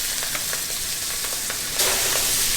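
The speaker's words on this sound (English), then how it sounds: "we're just gonna sear them in the pan, just like that" Tender, fragile redfish pieces sear in a hot pan, giving a loud, continuous sizzle with faint rhythmic ticks, and the sizzle surges brighter partway through when more pieces go in.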